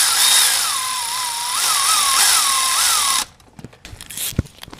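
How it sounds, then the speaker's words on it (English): A cordless drill spins spark plugs into a 5.3L V8 engine of a 2007 Chevrolet Tahoe, with a loud close whine that wavers in pitch for about three seconds, then stops and gives way to a few light clicks and taps. "I like to just run them down with the cordless"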